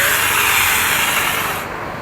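A mini chainsaw attachment on a Bosch angle grinder cuts through wood with a loud, steady, close-up high-pitched whine that fades slightly near the end.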